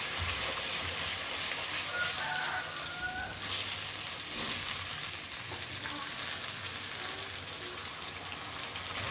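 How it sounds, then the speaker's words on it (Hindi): Steady sizzling of curry masala frying with red chilli, salt and turmeric powder in a pan, a constant crackling hiss with occasional stirring scrapes for kofta curry gravy. "अब हम इसको अच्छे तरीके से भुनेंगे।"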